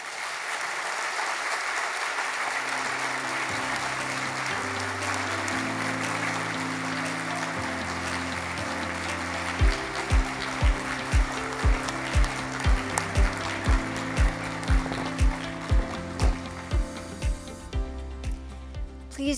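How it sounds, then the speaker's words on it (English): An audience at the Oklahoma City Public Schools Wall of Fame awards ceremony gives sustained applause for the newest inductees, a broad wash of clapping that runs throughout over a music track, with a steady run of beat-like thumps joining partway through. "Please join me in one more round of applause to all of our newest inductees into the Oklahoma City Public Schools Wall of Fame."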